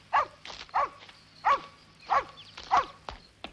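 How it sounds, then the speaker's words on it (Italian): Dogs being trained bark in an evenly spaced series of five or six sharp barks, moderately close, with no talk over them. "Stamattina si è messo in testa di ammaestrare i suoi cani."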